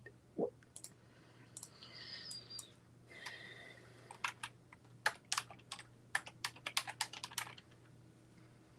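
Someone types on a computer keyboard, a run of crisp, close key clicks coming in irregular bursts that grow busier toward the end, with no voices.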